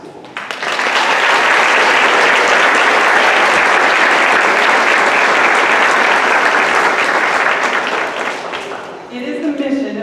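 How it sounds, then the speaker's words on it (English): A school awards ceremony crowd claps loudly in a sustained, close burst of applause that tapers near the end as a voice begins speaking. "Let's take a moment and give a round of applause to those who encourage our young people outside of school."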